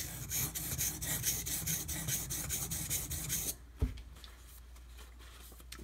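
A knife edge rasps in steady, rhythmic strokes across a sharpening stone while a convexed edge is being repaired, loud and close for about three and a half seconds before stopping with a single knock, then quiet.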